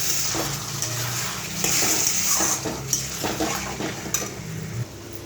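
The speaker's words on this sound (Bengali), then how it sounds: "জল দিয়ে এটাকে নাড়ব।" Spoon stirring a spice mixture with a ladle of water in a pan, soft scraping and clinks over a wet sizzle, close by, with music in the background.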